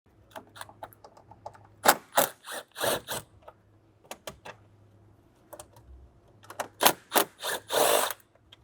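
Small T20 screws being removed from carbon intake parts on a 2008-2013 BMW E92 M3, heard as close clicking ratchet-like turns and plastic rattles in short bursts, with a faint steady hum underneath.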